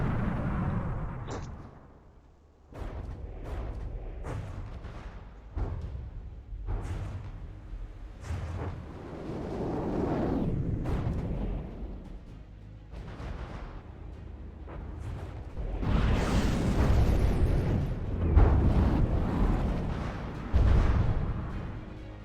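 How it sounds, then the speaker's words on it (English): Small, long frag missiles fire and burst during a naval battle between capital ships in Sea Encounters, a continuous barrage of whooshing launches and repeated explosive thuds that swell louder toward the end. "these are also small missiles, but they are much longer. I guess these are shooting frag."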